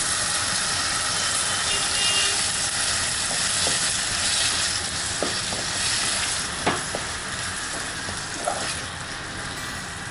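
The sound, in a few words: tomato mixture with turmeric cooking in a pan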